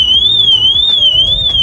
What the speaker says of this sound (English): Hold that down, just sets the alarm off.